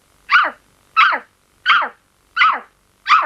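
The Terminator, a cyborg in the film, voices five evenly spaced dog-like barks, each a short hoarse woof about every 0.7 seconds, loud and close against silence; a human voice imitating a dog.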